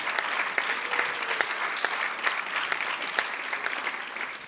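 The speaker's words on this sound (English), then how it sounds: "please give this amazing group of individuals a round of applause" Steady audience applause for a staff team at a closing speech, a dense wash of clapping with a few sharper individual claps standing out, sustained at moderate level.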